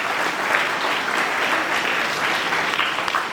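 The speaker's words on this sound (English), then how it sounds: "So big round of applause first of all for all the participations." A ceremony audience at a school house closing event claps in a thick, sustained wash of applause that holds at a constant level for a few seconds, with no talking.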